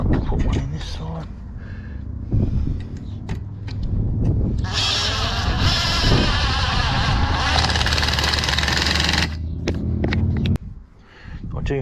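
A standard drill drives a screw into the other side of a folding garden kneeler, its steady whirring motor running for several seconds amid handling noise and low rumble, then cutting off.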